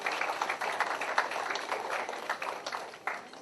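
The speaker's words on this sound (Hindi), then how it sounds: "जोरदार तालियां फॉर द रियल सुपरस्टार" Audience applause breaks out at an evening Iftar gathering, a steady wash of many hands clapping at moderate volume throughout, with no speech on top.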